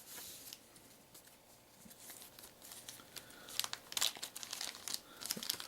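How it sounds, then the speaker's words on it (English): A sealed plastic bag crinkles as Star Wars: Imperial Assault game cards are pulled out. Soft rustling builds into a cluster of sharp, close crackles and crunches near the end, with no speech. "since these are sealed in this bag, be careful to take the cards out without scraping the edges"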